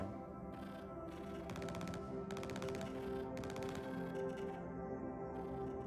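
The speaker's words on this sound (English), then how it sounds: "Where's that gunfire coming from?" Bursts of rapid automatic gunfire in the video game Star Citizen crackle in steady, dense volleys over a constant backdrop of game sound, no voices present.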